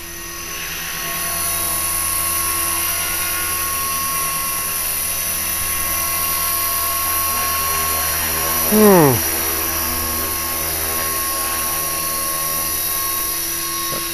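A rebuilt HK 450 RC helicopter hovers nearby with a constant high-pitched rotor and motor whine, briefly dipping and swooping in pitch once before settling back to a steady drone.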